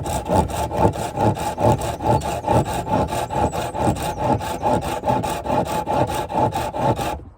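A hand saw cuts through wood to make a figure-four trap, its strokes rasping in a steady back-and-forth rhythm, close and loud, with no voices over the sawing.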